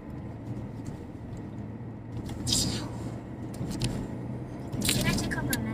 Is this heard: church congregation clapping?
no